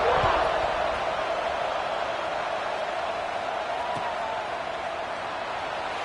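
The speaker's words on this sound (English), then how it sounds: "this crowd is buzzing after that last score" Football stadium crowd after a short-yardage touchdown, a broad steady roar of many distant voices filling the space, fading slightly over a few seconds with no distinct cheers standing out.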